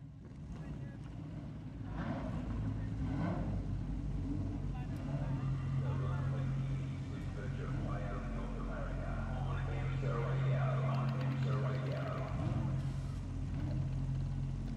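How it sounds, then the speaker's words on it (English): Lamborghini Super Trofeo race car engines idle at Mid-Ohio as a steady low rumble under continuous trackside commentary, with wind buffeting the microphone. "drivers, start your Lamborghini engines"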